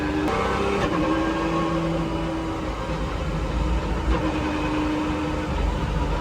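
A Pagani Zonda R engine drones steadily from inside the cabin, with a low throaty hum and subtle pitch shifts as it drives.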